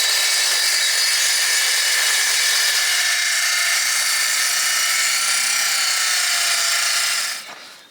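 Timber is being cut with a steady, loud power saw whine that holds constant for several seconds before stopping abruptly, with no voices.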